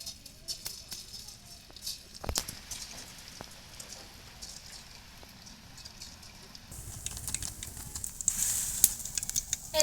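Boondi batter sizzles and fries in hot oil, a steady crackling hiss that grows brighter and louder near the end, with occasional clinks of a utensil.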